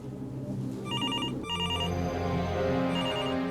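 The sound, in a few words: telephone ringing in a hotel room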